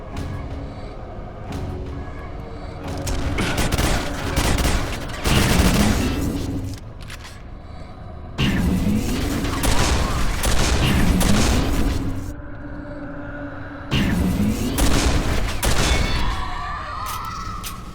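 Rocket fire and gunfire from the video game Quake 4, dense bursts of rapid shots and heavy booms arriving in several loud waves, with brief quieter gaps between them.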